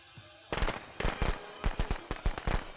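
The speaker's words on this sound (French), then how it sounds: "Ah, quelqu'un a allumé les pétards!" A rapid string of sharp firecracker pops in the video game Friday the 13th: The Game, arriving in several quick bursts with short gaps between them.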